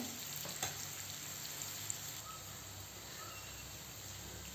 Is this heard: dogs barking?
no